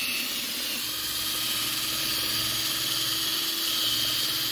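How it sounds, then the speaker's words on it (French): A rotary toilet brush scrubs a toilet bowl after a cleaning product has acted, giving a steady whirring, hissing drone that runs unbroken and fairly loud throughout. "il brosse avec ça, avec le balai chiotte, hein, rotatif"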